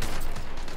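A short, loud crack of semi-automatic gunfire in the shooter game Warzone. It is a single dense burst of sound that lasts under a second.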